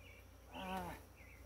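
Apis honey bees from an overgrown swarm buzz faintly during a transfer from a bait box to a Langstroth hive, one bee droning briefly closer in the middle over a quiet hum.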